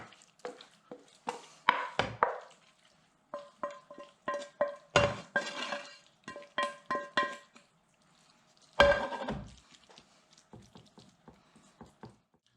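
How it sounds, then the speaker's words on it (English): Cooked mince goes into a pan over a layer of ziti for Greek pastitsio. A spoon gives a series of sharp scrapes and taps against the pan, with brief clattering bursts between short pauses, close and fairly quiet. "I'm going to add the mince."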